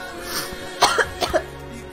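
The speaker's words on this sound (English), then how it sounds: "I'm sorry, I like coughed so loud in your ear earlier just now." Two loud, close coughs in quick succession, a sharp burst followed by another about half a second later, over a low steady background hum.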